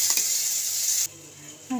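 A blended paste hits hot oil in a wok with black cumin and dried red chilies, giving a loud, steady sizzle that cuts off abruptly partway, with a short clank near the end.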